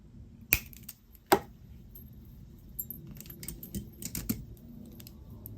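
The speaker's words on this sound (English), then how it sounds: "And now I'm going to snip off the excess." Wire on a beaded necklace is cut with two crisp, close snips in quick succession, then comes quieter light clicking and rattling of beads and wire.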